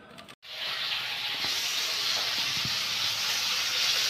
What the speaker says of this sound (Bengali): মাছ ভাজছি।